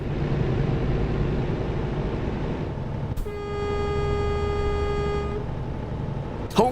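A truck horn blares in a truck simulator game during a TruckersMP Easter delivery event, a single sustained harmonic blast of about two seconds over steady engine rumble, followed by a brief second toot near the end.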